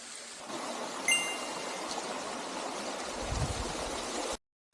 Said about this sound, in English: The road ends with a small waterfall